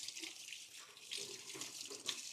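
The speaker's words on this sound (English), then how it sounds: "let me rinse my gloved fingers off a little bit" Running tap water pours steadily into a sink while gloved fingers are rinsed beneath it, a close, continuous splashing hiss with small shifts in flow and no talk.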